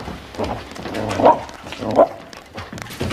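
A dog gives a few short, close barks and yips in a mixed, busy indoor scene, with bursts of vocal sound between them.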